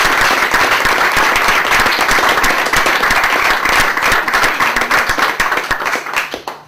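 An audience warmly applauding Jacques Lacourcière during a lecture on Québécois identity, loud sustained clapping from many hands that holds steady and then tapers off toward the close.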